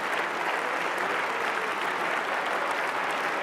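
European politicians applaud in a large chamber, a dense, continuous wash of clapping from many hands at an even level throughout, with no voices standing out.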